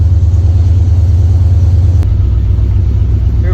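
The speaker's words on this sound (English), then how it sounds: "The car is about up to temp. It's above 160. It's idling." A warmed-up car engine fitted with Holley Sniper fuel injection idles close by with a loud, steady, throbbing low rumble that holds constant throughout.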